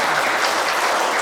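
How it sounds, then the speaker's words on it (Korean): An audience at a seminar claps in dense, steady applause that fills the whole short moment, loud and close with no talk over it. "우리 응원의 박수 한번 쳐주세요."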